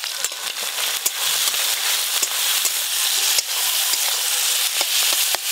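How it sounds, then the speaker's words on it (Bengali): Shrimp fry in a pan with a loud, continuous sizzle, sharp crackles and pops scattered throughout, no talking. "চিংড়ি মাছ ভাজতে বেশিক্ষণ সময় লাগে না।"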